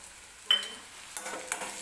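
Ground coconut being stirred into a black pavta bean usal in a pan, several quick scraping spatula strokes over a soft frying sizzle, close and fairly loud.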